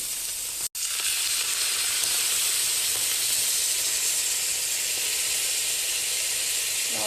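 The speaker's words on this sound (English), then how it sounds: "I'm gonna let it reduce and simmer" Bone broth seasoned with onion powder, salt and pepper simmering and reducing in a pan gives a steady, loud, close hissing sizzle that runs almost unbroken, apart from a momentary dropout near the start.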